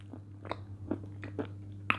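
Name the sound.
biting and crunching dry edible clay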